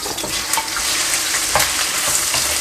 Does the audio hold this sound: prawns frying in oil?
yes